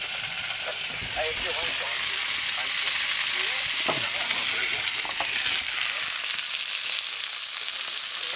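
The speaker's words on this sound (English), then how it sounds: "Just ripping some bacon" Bacon sizzling and crackling in a pan over a winter campfire, a steady close frying hiss with small pops throughout and occasional utensil sounds.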